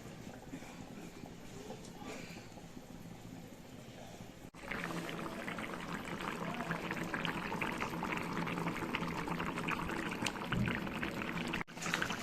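Fish curry with cauliflower and potatoes boiling in a pot, a quiet simmer at first, then a louder, steady, close bubbling that carries on to the end.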